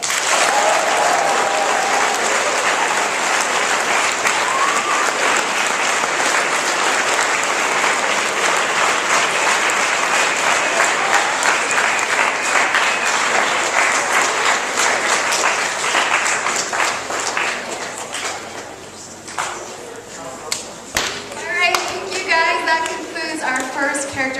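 A school assembly audience breaks into sustained, loud applause for a student, the dense clapping later thinning as cheers and excited voices rise near the end.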